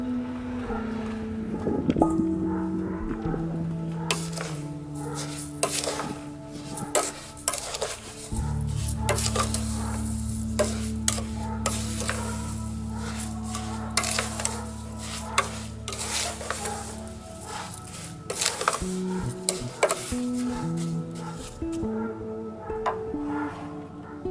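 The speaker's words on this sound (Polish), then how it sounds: "Dolewamy wodę i gotujemy na małym ogniu, aż cukier się rozpuści, a jarzębina zmięknie." Metal utensils scrape and clink against a pot as rowanberry jam with sugar and water is stirred, with a low bubbling simmer and occasional clatters, close by and steady.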